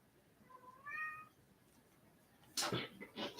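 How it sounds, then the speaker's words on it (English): A female cat in heat gives one drawn-out, rising meow, fairly close and moderately loud. A pause and some louder noises from the room follow. "Nana, this cat is driving me nuts. She's in heat and she's driving us totally nuts this week."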